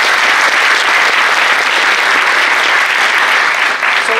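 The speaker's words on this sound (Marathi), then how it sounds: "टाळ्या वाजवा तिच्यासाठी." Loud, dense audience applause for Sonali Navangul at a memorial gratitude award ceremony, sustained and even for about four seconds with no talk over it.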